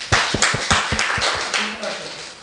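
A class claps after a student's presentation in a lesson on the Pentateuch. Around eight distinct, close hand claps come in an uneven rhythm and thin out over two seconds, with no talking.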